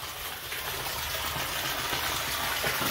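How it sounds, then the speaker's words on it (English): Water gushes steadily from a three-phase water pump running on solar power on a vegetable farm, a continuous, close, even rushing noise with no break. "they're running a 3-phase water pump"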